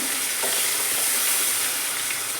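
Lentils and chili crackle in hot oil as a tempering for sambar, a loud, dense, continuous sizzle heard up close with no speech over it.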